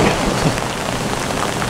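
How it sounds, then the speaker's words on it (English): Rain from a thunderstorm at sea, heard aboard a sailboat in the Bahamas, falls in a dense, loud, steady hiss with no pauses and no voices. "So this is thunderstorm."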